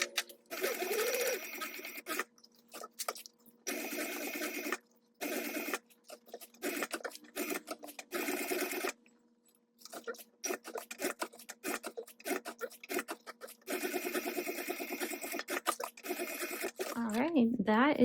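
A sewing machine runs in bursts, stitching all four sides of a fabric tab for a sling, loud rapid stitching broken by short pauses, with a voice speaking near the end.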